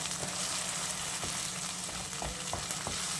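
Ground wet masala paste for misal hits hot oil in a pan, giving a loud, dense, continuous sizzle with crackling pops and a few stirring scrapes, with no voices.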